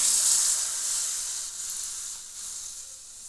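Date palm jaggery heats in a wok over a gas stove, giving a steady, soft sizzling hiss that fades slightly over a few seconds, with no voices.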